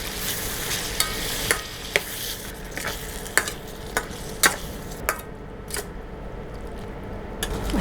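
Mee goreng being stirred and fried in a pan, with a constant close sizzle and repeated sharp scraping clicks of the utensil at an irregular rhythm.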